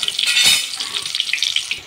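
Chopped onion sizzles in hot oil, a loud, close, steady bright hiss with a burst at the start and fluttering crackles running through, with no speech.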